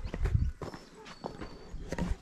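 Cow hooves clop on the ground in a few uneven steps, close by, with faint voices around.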